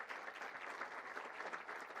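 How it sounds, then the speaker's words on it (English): An audience applauds the newly announced 107th Rose Queen with steady, faint, fairly distant clapping that keeps up a continuous patter from start to finish. "Another round of applause for Naira"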